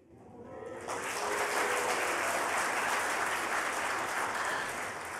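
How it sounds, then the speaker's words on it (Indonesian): Hesitant, scattered applause from a seated audience at a scholarship event, rising after a quiet start into steady, moderately loud clapping that continues to the end. "Sebetulnya itu tepuk tangan yang pas banget, tepuk tangan antara iya dan enggak."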